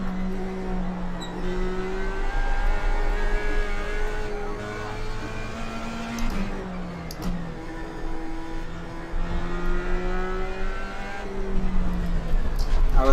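Race car engine in the iRacing sim held near full throttle, a steady loud drone with rising and falling harmonic sweeps as revs shift through gears, continuous and close throughout.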